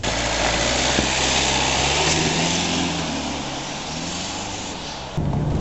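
A faulty car engine revving around 2,200 rpm runs loud and steady with a rough, uneven drone, its pitch shifting slightly before dropping back near the end.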